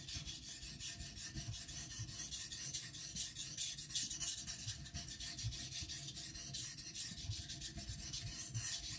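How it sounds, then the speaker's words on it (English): The back of a flat kiridashi blade rasps steadily across a sharpening stone in close, even strokes, a continuous gritty scraping with no voices. "you just lay it flat and deburr on the back side"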